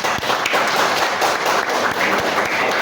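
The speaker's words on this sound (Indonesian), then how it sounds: "kita sambut kelompok 1 dengan tepuk tangan yang meriah" A group claps to welcome the first discussion group forward to present. The applause is steady, dense and loud, filling the whole moment with a few sharper thumps mixed in.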